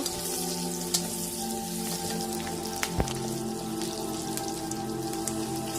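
Whole spices, including bay leaf, cinnamon, cardamom, black pepper and garam masala, sizzle in hot oil in a pan, a steady fine crackle with a few sharper pops.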